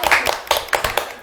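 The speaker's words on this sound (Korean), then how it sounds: "한번 힘차게 박수 한번 치기 시작할까요?" Several distinct rounds of hand claps from a small audience at a meeting, about six to eight crisp, close claps in a loose rhythm over a second or so.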